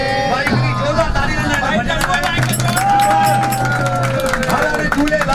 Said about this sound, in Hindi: भाई की जोरदार ताली